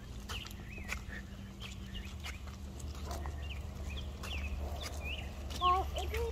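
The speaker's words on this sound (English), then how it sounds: "The sound of that bird chirping." Small birds chirp in short, scattered calls outdoors at a quiet resort in the pines, set against a steady low background rumble, with a slightly louder call near the end.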